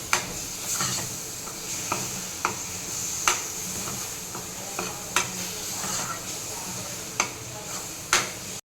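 A spoon scrapes and taps in a pan as a coconut and ghee sweet mixture is stirred, sharp clicks every second or so over a soft sizzle.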